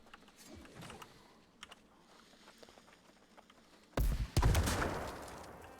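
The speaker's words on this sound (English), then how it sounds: "Fires the cannon." A cannon fires in a video game: after a stretch of faint clicks and low game noise, a sudden loud blast booms, quickly followed by a second heavy report that rumbles and decays.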